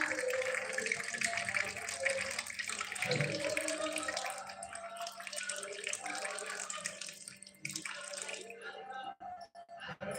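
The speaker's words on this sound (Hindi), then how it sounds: "मैं गिलास में पानी ले रही हूँ" Water pours steadily into a glass for several seconds, a continuous splashing stream that thins out and trickles toward the end, heard fairly close with no talk.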